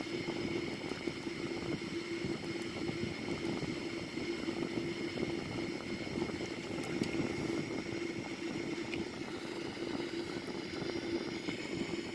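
Boeing 787 airliner engines in a flight simulator game drone steadily, a constant mid-pitched hum with a hissing wash of higher noise, unchanging and alone for the whole stretch.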